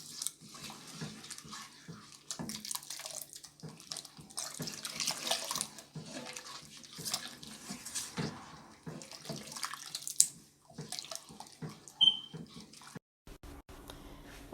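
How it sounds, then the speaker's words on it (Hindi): Water is poured into a pan of wheat flour and sugar while cooking atta halwa, a steady near pouring and splashing sound running for over ten seconds before cutting off. "अब इसमें मैं पानी ऐड करूँगी।"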